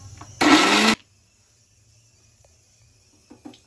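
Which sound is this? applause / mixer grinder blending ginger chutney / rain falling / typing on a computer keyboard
mixer grinder blending ginger chutney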